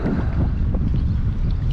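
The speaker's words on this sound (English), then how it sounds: "it's getting really fucking windy right now" Strong wind roars steadily across the microphone outdoors on the water while kayak fishing off Newport Beach, a dense low rumble with gusty buffeting and no talk.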